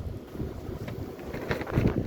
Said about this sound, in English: It's kind of windy, but it's dry.